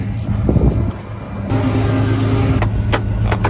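An old John Deere tractor engine runs with a steady low rumble and chug, close and loud, with some wind-like noise over it while cultivating red dirt.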